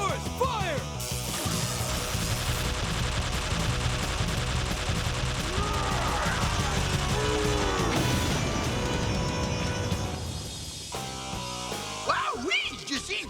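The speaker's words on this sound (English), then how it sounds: "The Power Rangers blew him into a zillion pieces." Sci-fi blaster fire and explosions slam into a monster in a Mighty Morphin Power Rangers battle, a loud dense barrage of zaps and blasts with a soundtrack layered underneath, easing off briefly near the end before more bursts.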